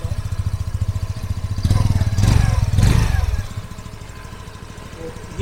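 A 2022 Hero Pleasure+ scooter with a BS6 engine idles with a pulsing putter, then revs twice to a louder mid-range drone before settling back to idle, close to the microphone.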